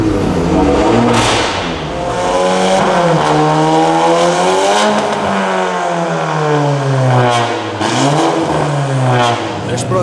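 Tuned Audi A1 engine, just started after heavy engine work, revs hard in loud, rising and falling sweeps with a raspy exhaust note, close and powerful, with voices underneath.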